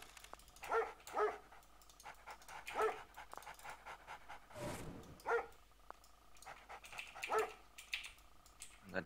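Dog barks and pants come from a real-time strategy match, a few short sharp yaps spaced irregularly over game unit voice lines and clicking, fairly quiet in the mix.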